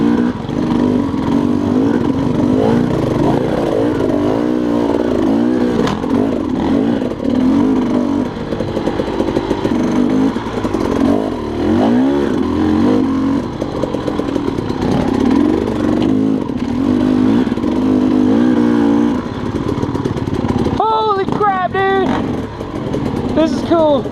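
A dirt bike rides single track at Rampart Range, Colorado, its engine loud and close throughout, rising and falling through revs and gear strain, with brief bumps and clatter from the trail.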